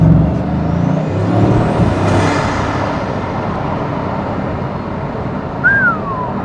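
A Bugatti Chiron on the move, giving a steady broadband rush of road and engine noise that stays fairly constant throughout, with a brief rising whine near the end.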